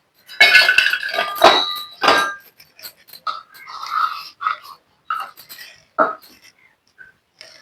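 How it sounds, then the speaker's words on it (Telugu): Pieces of jaggery, a cup's worth, drop into a pot on the stove with a series of sharp, close clinks and knocks, loud at first and then sparser taps, with no talking. "ఇప్పుడు ఒక కప్పు బెల్లం వేసుకోండి ఇందులో"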